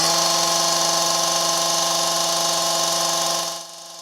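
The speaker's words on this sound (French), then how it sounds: "La tronçonneuse, ça fait du bruit et ça fait mal aux oreilles." A chainsaw cutting on a construction site gives a loud, steady high-pitched whine close by, holding an even tone for several seconds before cutting off abruptly near the end.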